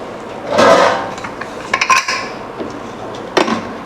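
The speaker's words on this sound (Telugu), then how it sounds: "ఏంటంటే క్యాప్ పెట్టేద్దాం" Metal clanks and scrapes as the cap goes onto a pressure cooker, a couple of close knocks followed by lighter rattling taps, moderately loud with no talking.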